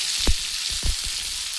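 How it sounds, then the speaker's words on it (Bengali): Cauliflower frying in hot oil, a continuous close sizzle with a few soft thuds and clinks of stirring. "ফুলকপিটা পুরো লাল লাল করে ভেজে নেবো"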